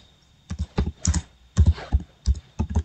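Short bursts of keystrokes on a computer keyboard, close and clear, tapping out a brief search term in uneven clusters with small pauses between them.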